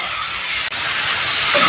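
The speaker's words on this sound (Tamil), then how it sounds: "நல்லா வதக்கி விட்டுக்கலாம் தக்காளியோ ஓரளவுக்கு வதங்கி வரட்டும்" Tomatoes sautéing in a pan for kara chutney give a loud, steady broadband sizzle and hiss close by, with one brief dip midway.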